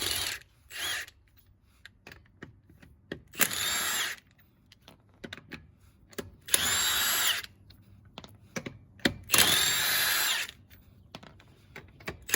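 Bursts of a pneumatic or electric impact tool loosening lug nuts on a Ford Explorer front wheel, several short whirring rattles separated by pauses and small clicks of handling, close and loud.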